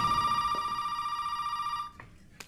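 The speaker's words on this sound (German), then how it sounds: "Dann gehen wir ans Telefon." A telephone bell rings in the horror video game Resident Evil 7: Biohazard. It gives a steady, loud electronic trill for about two seconds, then cuts off, leaving a faint click or two.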